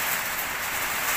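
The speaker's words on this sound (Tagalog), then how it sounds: "ang lakas ng hangin, ang lakas ng ulan dito sa Victoria." Dense, hissing rain pours down steadily with no break during a storm with strong wind in Victoria, loud and close, with a broad rushing wash.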